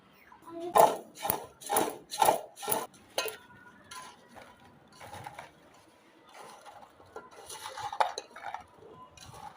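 Chopped raw mango is tossed with salt and turmeric powder in a bowl, giving a run of loud rhythmic scraping and knocking strokes that then thin out into quieter, scattered mixing sounds.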